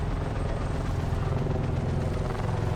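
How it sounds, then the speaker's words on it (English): Several helicopters fly overhead in the shooter game Call of Duty: Black Ops 4, a loud continuous rotor drone and rumble filling the scene without a break. "That's a lot of helicopters."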